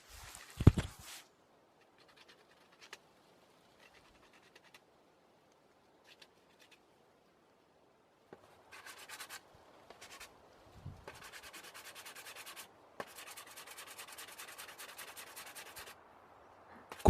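Coarse sandpaper rasps across the rough bark edges of a piece of wood. A few scattered scrapes come first, then longer bursts of steady rubbing strokes, close and moderately loud, with quiet pauses between them.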